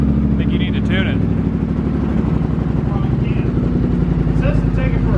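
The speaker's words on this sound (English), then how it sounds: "'cause I'm giving it gas, it's like lagging out." A 2020 Polaris Sportsman 850 HighLifter ATV fitted with a Big Gun EVO U exhaust and tuner runs loud and close with a deep, lumpy idle and throttle blips, while people talk over it.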